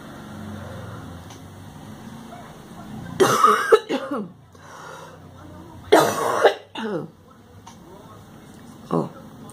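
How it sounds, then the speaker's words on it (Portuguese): Two bursts of harsh, close coughing separated by a few seconds, with a smaller cough afterward, over a low hum of background noise. "eu tô com a tosse danada aqui"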